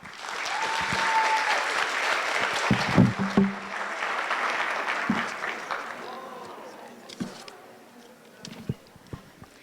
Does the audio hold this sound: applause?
yes